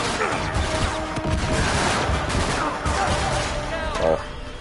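Gunfire in Uncharted during a chase, with dense bursts of shots and crashes under continuous game noise, loud and close, and voices talking over it.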